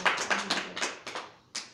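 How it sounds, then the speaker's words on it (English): Scattered clapping from a small audience at a raw-footage spoken word event, a handful of separate hand claps spaced irregularly and fairly close, thinning out with short gaps between bursts. "So another round of applause for Gorgio and Hades."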